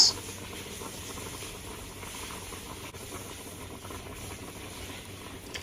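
Lentils boil in a pot with a steady, faint hiss and soft bubbling that holds evenly throughout without pauses.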